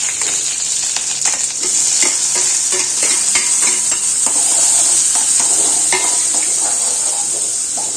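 Mustard seeds, cumin, dried red chilli and curry leaves crackle in hot coconut oil, a loud close sizzle with sharp pops and spatters plus occasional pan scrapes, with no one speaking.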